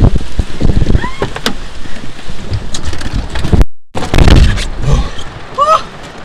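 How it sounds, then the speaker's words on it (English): Heavy rain roars steadily with gusts and clatter, broken by a brief dropout, while occasional voices cut through. "Look at this rain."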